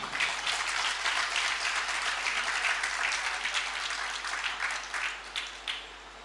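Audience applause at a Hindi spiritual discourse on astrology, a sustained, moderately loud burst of many hands clapping that tapers off toward the end, with no talk over it.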